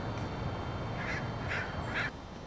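A cartoon duck quacks three times in a steady rhythm, each call short and fairly clear, set over a low, constant background rumble with no speech.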